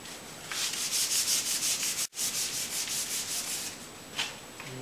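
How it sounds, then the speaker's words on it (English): Wood filler sanded by hand with sandpaper: steady back-and-forth rubbing strokes, close and fairly loud, a brief pause partway through, then more strokes and a final short scrape. "all we need is a little bit of sandpaper"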